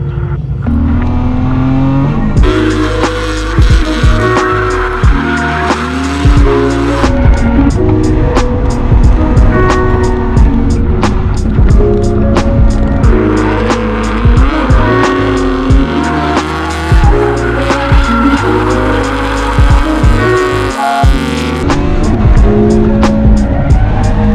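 A drift car runs hard at the Slush motorsport festival, its engine revving and rising in steady loud pulls with bursts of tire squeal, close and continuous throughout.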